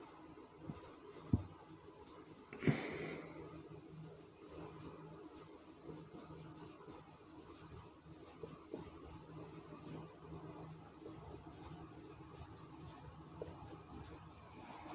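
Chalk or marker strokes write maths on a classroom board, soft intermittent scratching and rubbing in short bursts, with a couple of sharp taps early on, close and faint.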